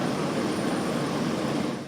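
Jet engines of a Boeing Dreamliner airplane, a loud, continuous broadband roar holding steady throughout and easing slightly at the end.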